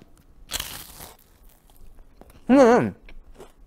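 A sharp crisp crunch of biting into a brittle Korean rice cracker (hangwa), followed after a pause by a brief loud voice exclamation.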